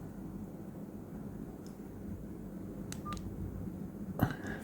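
Short electronic key beeps come from a Zanco tiny t1, a very small working mobile phone, while its menus are navigated; several faint, sparse beeps over a quiet hiss, with one louder click near the end.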